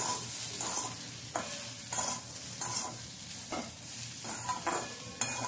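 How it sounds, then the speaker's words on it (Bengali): Salted ridge gourd and moong dal are stirred in a frying pan, with rhythmic scraping sweeps about every half second over a soft steady sizzle, close and without talk. "নুনটা দেওয়ার পরও আবার একবার ভালোভাবে নাড়াচাড়া করে নিচ্ছি।"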